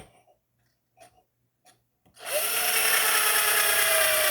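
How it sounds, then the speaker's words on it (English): After a few faint taps and clicks, a power drill with a 1/4 inch bit starts boring into a lid and whirs loudly and steadily to the end. "drill a hole in the lid."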